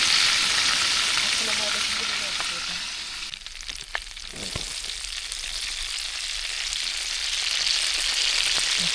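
Fish sizzling steadily in a frying pan during an outdoor fishing trip, a dense continuous crackle with occasional pops that dips briefly midway, then resumes at full, close strength.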